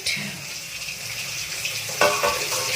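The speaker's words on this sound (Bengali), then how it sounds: "মাছ ভাজছি" Fish frying in a pan in a home kitchen, a steady broadband sizzle running throughout with a louder crackling surge near the end, close and moderately loud.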